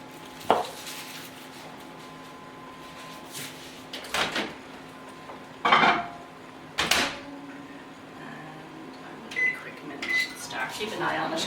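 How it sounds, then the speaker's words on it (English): A kitchen microwave oven melts margarine for raspberry chocolate muffins, giving a low steady hum punctuated by sharp clunks and clicks from the door and buttons, while someone talks throughout. "we're going to pop this into the microwave to melt it."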